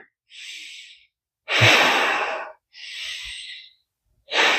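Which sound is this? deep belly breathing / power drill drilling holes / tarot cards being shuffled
deep belly breathing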